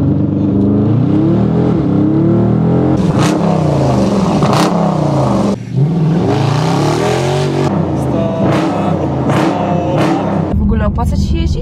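A Dodge Challenger V8 accelerates hard in city traffic in Warsaw, its deep engine note climbing and falling through gear shifts with a throaty rumble, loud and close from inside the car while passengers talk and exclaim over it.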